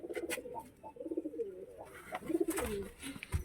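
Pigeons coo repeatedly in a coop cage, several soft throaty rolling calls overlapping close by, one of the birds having a sore eye.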